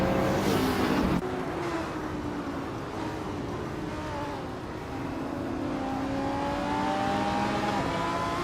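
Race cars accelerate on the Macau street circuit, engines rising in pitch in long sustained revving sweeps, with an abrupt shift early on and a steady loud roar throughout.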